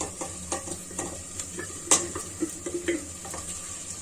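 Tomato paste frying in a pan with meat and onion, a soft sizzle beneath repeated scraping stirs and light clinks of a utensil against the pan.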